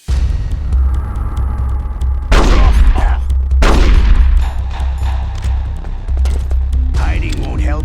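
Revolver gunshots in Metal Gear Solid: The Twin Snakes, two loud booming blasts a second apart over a rumbling low backdrop, with a voice speaking briefly near the end.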